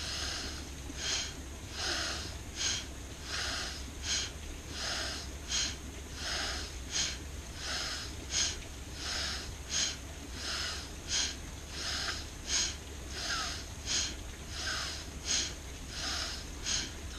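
Rhythmic forceful breathing through the nostrils in a yoga practice, roughly a dozen and a half sharp, even nasal exhalations repeating about once per second, close and steady with no talking.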